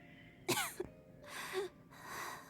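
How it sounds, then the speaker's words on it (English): A Genshin Impact game character gives a sharp cough followed by a couple more raspy, breathy coughs, close and isolated, with short pauses between them. "How long have you had that cough, Tonya?"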